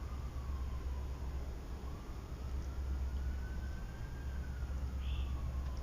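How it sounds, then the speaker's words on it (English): Emergency sirens wail far off in a hot Louisiana evening, a faint slow rising and falling tone drifting over steady low outdoor rumble. "I hope whoever is the subject of those sirens is okay."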